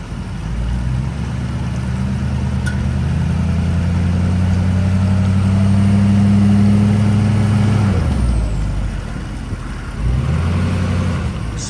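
A Duramax diesel pickup hooked to a 1976 International Scout II revs hard and holds a loud, steady drone as its wheels spin, easing off briefly near the end before climbing again.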